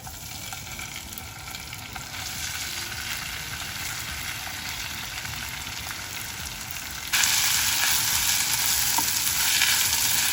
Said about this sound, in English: I'm going to cook the green peas till all the moisture evaporates